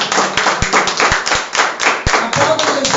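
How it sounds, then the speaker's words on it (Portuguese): Church congregation clapping hands together in a steady, loud rhythm of sharp, close claps, with voices speaking and calling out over the clapping throughout. "Amém. Aplauda Jesus."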